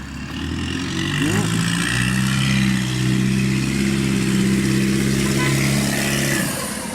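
A diesel 4BT expedition vehicle rumbles past with a steady low clattering engine drone, its pitch climbing briefly early on, then holding level and fairly loud throughout.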